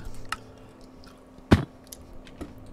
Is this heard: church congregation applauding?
no